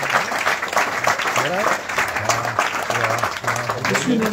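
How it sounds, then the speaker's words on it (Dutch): Audience applause at a live-streamed vlog recording in a minigolf venue, a dense steady patter of clapping running the whole stretch with a voice talking over it. "Applaus! Applaus!"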